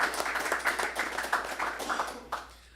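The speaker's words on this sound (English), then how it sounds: "Let's give him a round of applause." Audience applause for a graduating student at a security training ceremony, fairly sparse and rhythmic clapping from a modest group, individual claps distinct, fading out near the end.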